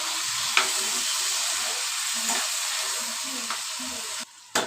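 Egg curry masala frying in a pan with a steady, close sizzle, a few sharp scrapes of stirring breaking through, then a brief drop and clatter near the end.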